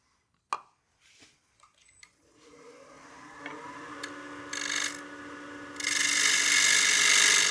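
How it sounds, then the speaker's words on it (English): A bowl gouge cuts wood on a spinning lathe while a small coin box is turned, starting with a few knocks and then building into a steady hiss and scrape that grows louder and brighter toward the end. "I'll make a few more passes with the bowl gouge"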